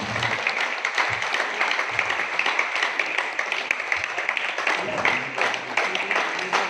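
Steady applause from a crowd, dense clapping sustained throughout with a murmur of voices mixed in.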